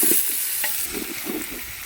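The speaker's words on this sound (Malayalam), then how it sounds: "സവാള പെട്ടെന്നിടുകയാണേ. ഇളക്കിക്കോ അല്ലെങ്കിൽ കരി." Onions sizzling in a hot pan while being stirred with a spatula, a steady loud frying hiss broken by soft scraping strokes.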